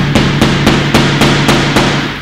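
A real metal hammer strikes a nail at a steady, brisk pace, about eight sharp, loud, close blows over a ringing undertone, with no voices.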